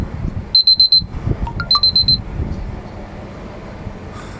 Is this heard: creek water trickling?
no